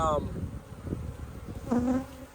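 Honey bees buzz around an opened hive box with poorly drawn frames, a close, fairly faint drone with one bee's whine rising nearby partway through.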